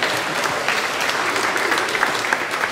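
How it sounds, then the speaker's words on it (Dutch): Audience applause for the bands at a benefit evening, a dense, steady burst of clapping from a crowd at moderate loudness with no talk over it. "Applaus voor die bands."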